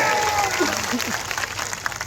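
A crowd at a political rally claps steadily in a short, continuous wash of applause, with a voice faintly audible over it.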